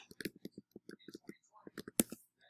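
Quiet, close keystrokes tap out a word on a computer keyboard in an uneven run of light clicks, ending on one sharper tap.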